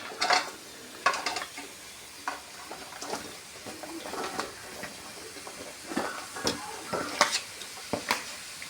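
Pumpkin is scooped into a pan of spice paste for a Kerala-style thoran and stirred, giving a series of close scraping and clattering knocks with a light sizzle underneath, the spoon strokes coming in short, uneven bursts.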